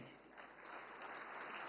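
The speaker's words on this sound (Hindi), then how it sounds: "हाँ, अब ताली बजी।" Audience clapping at a political speech in India, a steady wash of applause at moderate distance that holds evenly for the whole stretch with no voices over it.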